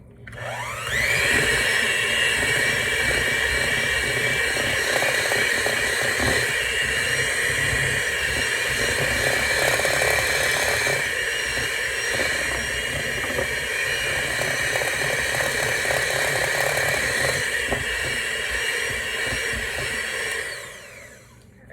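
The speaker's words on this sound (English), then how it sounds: "I currently only have a hand mixer and it works just fine." An electric hand mixer beating dough in a bowl, a loud, steady whirring drone that runs without a break for about twenty seconds before cutting off, close by with no talking.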